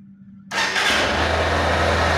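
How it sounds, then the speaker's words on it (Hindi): After a brief quiet moment, a 2024 Honda SP 160 motorcycle engine cranks and catches, then settles into a loud steady idle close by. "फिर गाड़ी को डायरेक्ट से स्टार्ट करेंगे"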